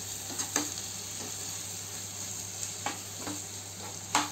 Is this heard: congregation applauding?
no